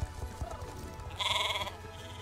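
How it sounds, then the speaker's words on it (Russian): Sheep bleating in the online horse-riding game Star Stable Online, a wavering bleat rising clearly for about half a second after a quieter stretch of game ambience with faint low thumps. "Так, вот еще одна овца."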